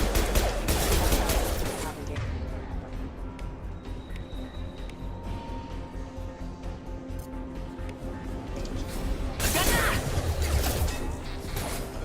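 Rapid gunfire bursts in the sci-fi shooter game Mass Effect 2, loud at the start and again near the end, with a steady drone of battle noise in between and voices talking over it.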